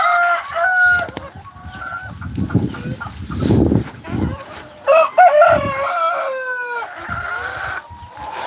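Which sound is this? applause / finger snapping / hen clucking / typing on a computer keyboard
hen clucking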